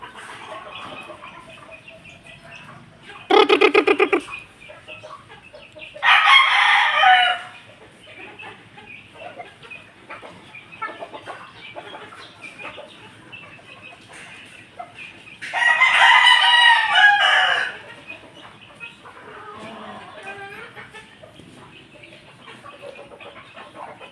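Backyard chickens and chicks in a yard: a rooster crows loudly in three separate bursts, and softer clucks and peeps carry on in between. No one speaks.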